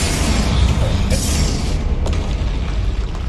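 A Confringo blasting spell explodes in the Hogwarts Legacy video game, a loud, booming burst that rumbles on as a dense, sustained roar through the whole stretch.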